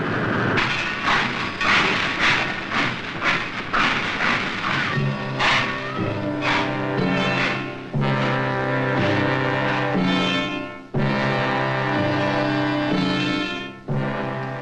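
Freight trains bringing iron ore, coal and limestone to a 1944 steel mill rumble and clatter loudly, with rhythmic clanking early on giving way to a sustained roar and screeching tones.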